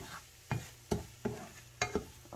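Hash being stirred and flipped in a frying pan, with several distinct scraping clatters of a utensil over a low steady sizzle, close and fairly quiet.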